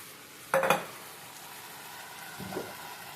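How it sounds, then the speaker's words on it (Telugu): Rice poured into a pan holding mint-ginger paste and chopped leafy greens for pulao, a short burst of grains landing and scraping, then a quieter stir a couple of seconds later, with no talking. "ఇప్పుడు దీనిలో మనం బియ్యం వేసేస్తాము."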